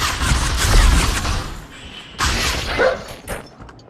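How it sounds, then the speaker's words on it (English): A pet dog barks indoors in short sharp bursts with thumps and scuffling between them, fairly close and loud, while someone plays the VR battle royale game Population: One on a Meta Quest 3. "My dog is barking."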